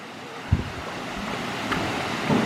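Broad steady rush of water pouring over Kinlock Falls, a continuous wash filling the scene with a few soft thumps and splashes rising briefly above it.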